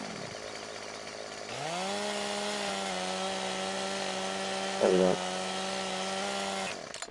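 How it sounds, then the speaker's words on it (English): A chainsaw revs up and cuts into a tree in Farming Simulator, a steady loud buzzing drone held for several seconds before cutting off. Someone speaks briefly over it. "trusting me with a chainsaw"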